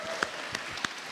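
A few scattered, faint claps from an audience at a panel discussion, three quick isolated hand claps spaced about a third of a second apart over a quiet room.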